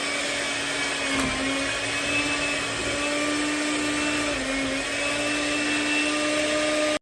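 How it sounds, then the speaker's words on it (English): An electric hand beater whirs loudly and continuously through goat cheese cake batter, a steady motor whine that dips briefly in pitch as the beaters bog down, alone without talk. "Let's plug in our beater and let's put it on there and get the beating."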